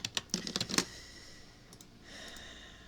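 A quick burst of clicky keyboard keystrokes at the start, then quiet room noise with a faint hiss.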